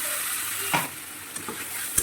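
Spices with garlic, ginger and chili go into hot oil in a wok over already-fried onions and potatoes, a continuous sizzle with a few sharp clinks and scrapes of a spatula, and no voices.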